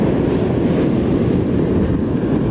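Sea waves slapping against a small fishing boat, a dense, steady wash of water and wind buffeting close to the microphone, with no pauses and no voices.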